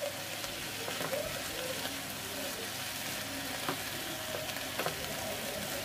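Water spinach with lentil dumplings and sugar sizzles steadily while being stirred in a pan, a continuous frying hiss with faint scraping of the spatula throughout, close and moderately quiet, no talking.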